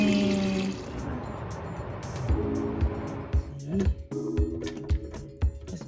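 Cold water pours into a pot for steaming momos, with a rushing, splashy flow at first, then settling into irregular knocks, clunks and drips close by.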